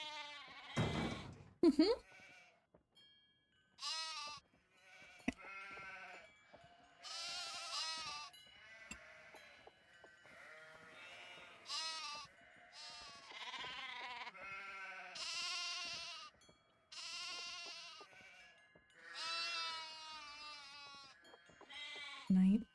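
Sheep bleat repeatedly in a video game, a series of loud, wavering cries one after another across a long stretch, while people talk casually over and between them.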